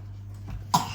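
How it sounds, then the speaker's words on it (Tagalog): One short, sharp cough comes near the end, following a quiet stretch with a low steady hum. "Huwag ka mag-ubo sa harapan"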